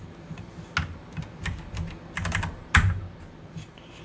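Typing on a PC computer keyboard, pressing Alt and F keys to change font size in light pen software: a few separate sharp key clicks spaced irregularly, with one louder keystroke, close and alone.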